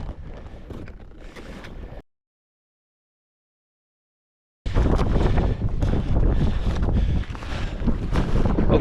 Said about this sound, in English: about 500 feet at the summit, there was a pretty stiff wind